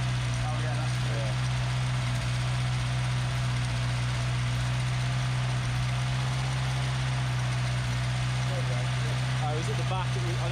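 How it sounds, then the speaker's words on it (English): A Volkswagen Golf MK2 Syncro engine runs at a steady idle with a rotted, rattling exhaust. A constant low drone and hum hold evenly throughout at close range. "The rattling was the exhaust."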